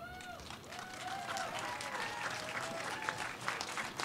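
An audience at a Domestic Violence Awareness Month launch event applauds the Youth Advisory Council: dense, sustained clapping from a crowd, with a few high whoops or calls rising above it.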